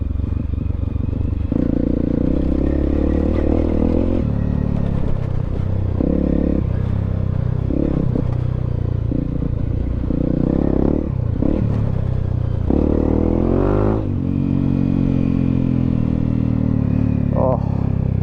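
A Honda CRF 250L motorcycle rides off road, its engine droning and rising and falling with throttle changes, with clatter and scraping over rough ground, close and loud throughout.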